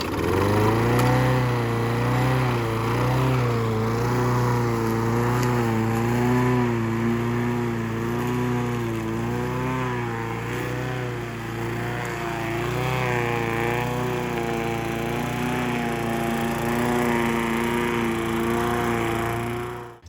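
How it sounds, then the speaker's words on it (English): A lawn mower fitted with a scarifying attachment clears rough ground, its engine droning steadily and loudly throughout with a slightly wavering pitch as it works, close by and with no talk. "I'm going to use the scarifying attachment on the other mower to try to clear the surface before I dig it over"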